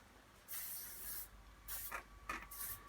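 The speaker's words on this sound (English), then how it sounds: "So I would recommend using something more like a WD-40. Spray up at the top," An aerosol can of WD-40 lubricant sprays onto a baby stroller's folding mechanism in a few short hissing bursts, the first longest, with quiet pauses between, close and fairly soft.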